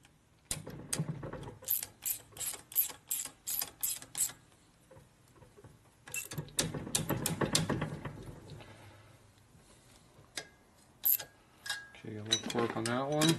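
Torque wrench ratcheting on the bolts of a 1979 Harley-Davidson 80 cubic inch shovelhead engine under rebuild, quick bursts of close metallic clicks separated by pauses, with someone talking briefly near the end.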